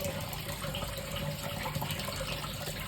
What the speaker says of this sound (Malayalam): ലേശം വെള്ളം ഒഴിച്ചിട്ട് ഇങ്ങനെ ബാറ്ററി ശരിയാക്കാം